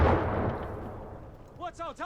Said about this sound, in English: Mortar hard at work.